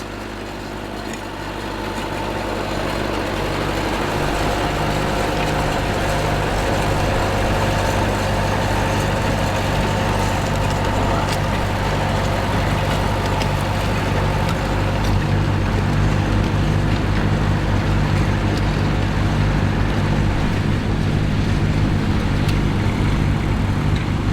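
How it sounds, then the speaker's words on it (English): A 1974 Belarus DT-75M crawler tractor, built at the Volgograd Tractor Plant, ploughs with its diesel engine droning steadily and loudly up close, holding a constant low throb with no voices. "In Buckinghamshire, Ian Eld is ploughing with a Belarus DT-75M."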